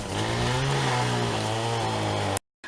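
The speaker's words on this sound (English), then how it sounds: "And Bill, he's cutting wood today." A saw cutting wood outdoors in a food forest, a steady loud motorized drone with rising and falling engine pitch for over two seconds, then cutting off abruptly.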